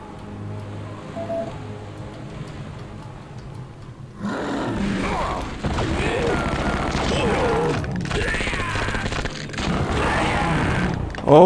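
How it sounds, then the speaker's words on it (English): Rocket launcher blasts and chaotic combat in the first-person shooter Shadow Warrior, dense crashing explosions and mechanical clatter erupting loudly after a quieter opening and continuing throughout. "Gotta watch out for the guy with the rocket launcher."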